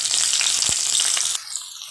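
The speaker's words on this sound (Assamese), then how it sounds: "এয়া আলু আৰু ক্যাপসিকামখিনি ধুনিয়াকে ভাজ খাই গল" Potatoes and capsicum fry in hot oil with a steady, dense sizzle that cuts off abruptly partway through, leaving a softer hiss with a faint clatter.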